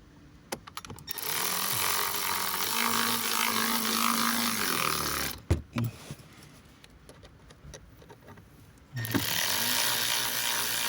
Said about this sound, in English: we'll just use the air ratchet to zap them back up in there